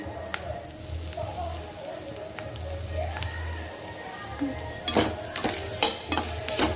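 Modak filling sautés in a pan as a spoon scrapes and stirs it, giving steady sizzling with intermittent scraping strokes that grow louder and busier toward the end.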